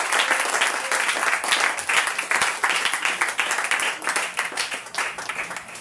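A church congregation applauds for Jesus Christ during a sermon, with loud, dense clapping from many hands continuing throughout in a lively, slightly rippling wash.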